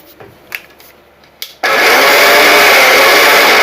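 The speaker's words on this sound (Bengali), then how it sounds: "এবার আমি এই 3টে ইনগ্রেডিয়েন্টসকে একসাথে ব্লেন্ড করে নেব।" A mixer grinder whirs into a loud, steady roar as it blends powdered sugar, eggs and oil for an oven-free vanilla tutti-frutti cake, preceded by a few light knocks of the jar being set up.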